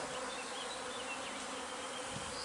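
Honeybees buzz steadily around a brood frame lifted from a hive while swarms are being made for a queen-rearing hive, a dense, continuous drone with no voices over it.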